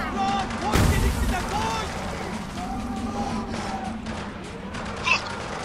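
Gunfire rattles in a Spec Ops: The Line firefight, bursts and a heavy blast under shouted soldier voices and combat chatter, fairly loud and continuous.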